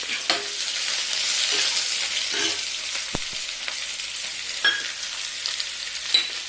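Onions frying in a pan for chicken curry, a steady close sizzle with occasional scrapes and stirring clicks from a utensil, no talking.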